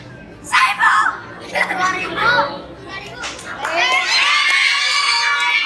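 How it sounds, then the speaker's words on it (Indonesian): Children in a classroom shout numbers together in loud, overlapping bursts, with an adult voice among them and noisy chatter throughout. "Sambil teriak ya ngomongnya ya."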